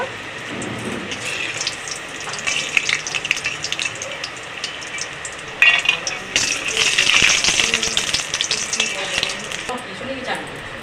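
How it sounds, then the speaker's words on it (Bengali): Steady sizzling and crackling of five-spice seeds and whole dry chillies frying in hot oil, growing louder and busier midway, with faint kitchen clatter. "গরম তেলের মধ্যে পাঁচ ফোড়ন আর শুকনো লঙ্কা গোটা ফোড়ন দিয়ে দিলাম"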